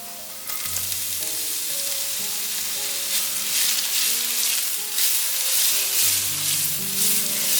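Cucumber stir-frying in hot oil with minced ginger, a steady loud sizzle close by that flares brighter when the slices go in, with occasional scraping of a spatula against the wok.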